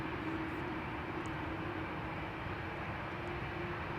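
A Transavia airliner departs Amsterdam Schiphol Airport, its engines giving a steady, loud broadband roar that holds unchanged for the whole stretch with no talking.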